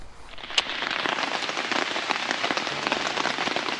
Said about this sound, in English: it's starting to rain right now